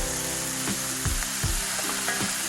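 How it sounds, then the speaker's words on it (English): Seasoned hamburger frying in a Dutch oven at a campsite, a dense steady sizzle up close with occasional scraping knocks as the meat is stirred. "I'm going to get this frying up."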